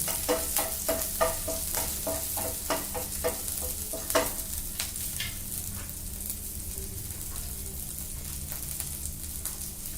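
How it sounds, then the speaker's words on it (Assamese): Cumin seeds stirred in hot oil for a tomato paneer fry, with a run of close, rhythmic scraping strokes over a steady sizzle that settles into a continuous crackling fry. "লগতে দি দিম কেইটামান জিৰা ভালকৈ লৰাই দিম"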